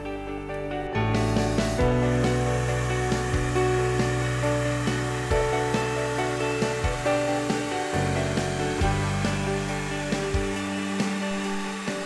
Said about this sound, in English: So heat here, with the heat gun pointing away from the channel, and make the application here.